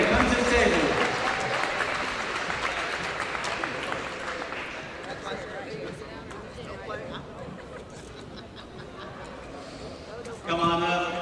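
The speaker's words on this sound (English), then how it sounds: "let's give them a round of applause" Crowd applause at a high school college signing day for student athletes, broad and sustained, fading a little before a fresh burst of clapping near the end, with chatter mixed in.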